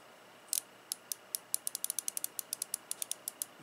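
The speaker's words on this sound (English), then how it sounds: "This is basically the same ratchet with a flex head." Harbor Freight Pittsburgh Pro 1/4 inch flex-head ratchet with a 72-tooth head clicking, a quick series of about twenty crisp, close clicks in an uneven rhythm, alone in a quiet room.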